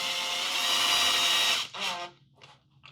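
A power drill whirs steadily at high speed for about a second and a half, driving a small screw into a screen roller grommet on a ProVia patio door, then gives two short trailing bursts and stops.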